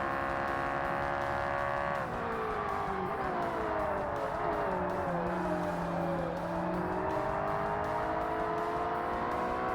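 A Ferrari race car engine in Forza Motorsport, a loud, steady high-revving whine that drops in pitch around a gear change or corner, then climbs and dips again as the car works through turns, continuous and without talk.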